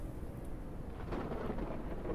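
Thunderstorm in the video game Surroundead, a steady loud roar of rain and rolling thunder filling the whole stretch, swelling slightly partway through.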